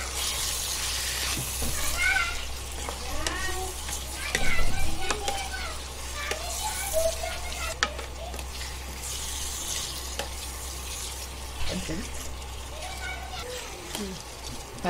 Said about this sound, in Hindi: गोश्त भून के हो गया, अभी हम इसमें अदरक लहसुन का पेस्ट डालेंगे,